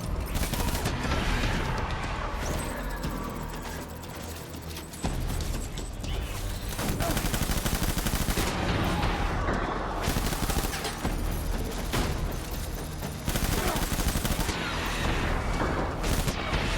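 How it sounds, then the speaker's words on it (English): Dense video-game gunfire from Death Stranding: loud, continuous bursts of automatic shots and crashing impacts that barely let up, with short lulls between volleys and no talking. "Open fire."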